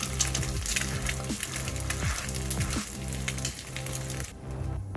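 An egg fries in a hot pan with a steady, close, crackling sizzle that runs continuously at moderate loudness, with faint scraping and clinking from a utensil and no talking.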